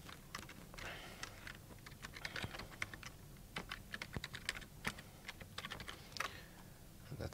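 Fingers typing a username and password on a computer keyboard, a quick irregular run of soft key clicks and taps at close range, fairly quiet with no talking.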